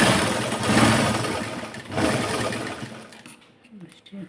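An electric sewing machine runs in bursts while stitching a blouse hem, a steady mechanical whir with two louder surges that cuts off near the end, leaving quiet cloth handling.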